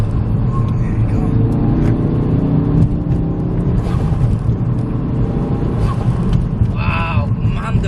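Ford Focus RS with a manual gearbox accelerating on the road, a steady loud engine drone and road roar with rising rev tones, while people talk over it inside the cabin.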